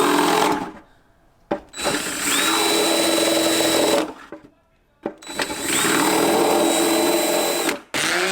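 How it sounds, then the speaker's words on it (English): A power drill re-drills pilot holes in a fiberglass motorcycle fairing for a Honda CBR600RR rebuild, two loud whirring bursts of several seconds each with spin-up and wind-down, separated by short pauses. "I am going to re-drill these pilot holes though."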